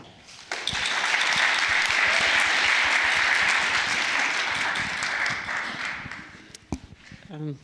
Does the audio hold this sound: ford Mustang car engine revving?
no